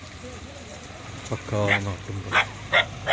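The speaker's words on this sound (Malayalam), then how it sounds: "നായ കുരയ്ക്കുന്നുണ്ട് പുറത്തെ വീട്ടിൽ." A dog barks a few times at a house outside in a rural village near Sirumalai hills, Tamil Nadu. The short barks come mid-distance, mixed with someone talking nearby.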